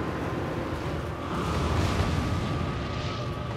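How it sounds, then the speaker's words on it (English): Old Demon King's fiery body explosion in Dark Souls III, a sustained low roaring rumble that holds steady and swells slightly midway, with no talking. "he... did a body explosion that burned all of his power out"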